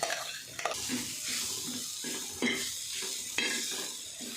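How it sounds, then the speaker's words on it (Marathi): Coarsely ground green peas stir-fried in hot oil for matar nimona, a steady sizzle with repeated scraping strokes of a spoon against the pan, close and fairly loud. "ही जी मटरची दर दर वाटून घेतले आहे मटर ते घालून घ्यायचं आणि ह्याला ना चांगलं परतून घ्यायचं"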